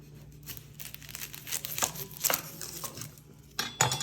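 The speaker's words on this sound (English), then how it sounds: "So let's start with just cutting off the top part of the onion." A knife cuts the top off a whole onion on a cutting board. Close, crisp crackles and crinkles of papery skin mix with light taps and clinks, with no talking.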